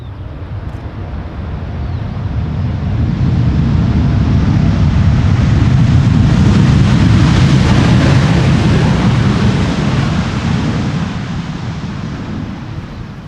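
An Icelandair airliner lands on Schiphol's Polderbaan runway in crosswind, a broad jet roar swelling to a loud peak mid-pass and then slowly fading, with no voices over it.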